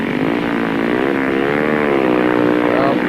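A speedway motorcycle engine revs steadily to warm its rear tyre before heading onto the grid at the Vojens track, a continuous loud drone that rises and falls slightly in pitch, heard up close with commentary-like voice underneath.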